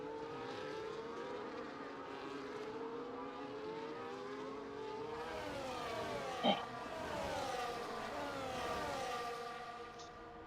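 Race cars in the F1 24 video game, Mexico circuit, queuing behind the safety car: faint, steady engine whine with shifting pitch sweeps across the whole stretch, one brief click midway, quiet and distant.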